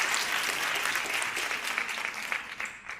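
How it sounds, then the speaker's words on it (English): Delegates at a CEO summit in a conference hall give a warm round of applause, a continuous crowd clapping that thins out slightly toward the end. "worth a warm round of applause"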